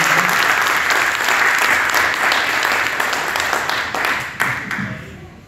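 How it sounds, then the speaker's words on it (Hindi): Audience applause at a swearing-in ceremony for newly elected office bearers of a Bhiwani family friendship association, a steady, dense round of clapping that holds loud throughout and thins out near the end. "एक बार तालियां इनके लिए"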